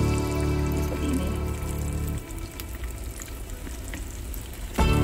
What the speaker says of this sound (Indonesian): Dan ini kita goreng usus yang sudah dimarinasi dan dikasih tepung bumbu